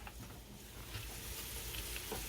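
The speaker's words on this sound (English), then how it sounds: "You can hear it starts to sizzle right away." Steady sizzling of spinach frying in hot oil in a pan, a continuous crackling hiss with occasional louder pops, close and fairly quiet, no talking.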